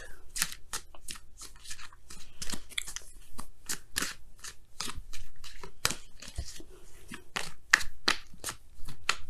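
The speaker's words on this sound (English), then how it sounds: "let's go ahead and pull your Wisdom of the Oracle card" Oracle cards being shuffled and pulled during a tarot reading, a close series of quick crisp riffling and snapping bursts in an uneven rhythm throughout, with no talk over them.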